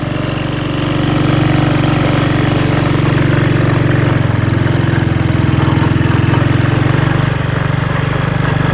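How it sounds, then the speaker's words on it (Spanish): A homemade Argentine motorcycle that runs on garbage, ridden with a passenger in first gear at about 20 km/h, gives a steady, loud, low engine drone that holds evenly throughout. "probando acá ya con carga, bien con carga, a ver cómo se comporta la moto"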